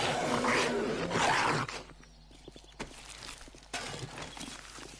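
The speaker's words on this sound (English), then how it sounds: "I know I can hear a zombie around, but where is it?" A zombie in the survival game 7 Days to Die gives a loud, rough growling roar for about a second and a half, then quieter shuffling and scattered game noises follow, with a second low rumble near the end.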